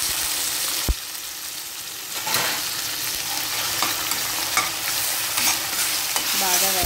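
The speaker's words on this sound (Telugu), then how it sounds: "బాగా వేగనిద్దాం." Onion paste and turmeric sizzle loudly in a pan for a country chicken curry, with a spoon scraping and stirring through it and a sharp knock early on. No one speaks.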